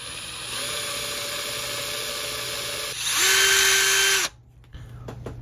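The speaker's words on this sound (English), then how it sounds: "So I have a 9/64 bit hooked up to my drill here." Power drill fitted with a 9/64 bit runs steadily as it bores into an HO scale model locomotive body, a close whine that rises to a higher, louder pitch midway, then stops abruptly.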